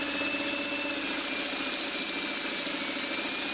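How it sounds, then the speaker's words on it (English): Sewing machine running steadily while stay stitching close to the edges of fabric, a continuous near mechanical whir with fine rapid needle chatter and no talk. "This technique is called stay stitching, and this will help prevent the edges from stretching."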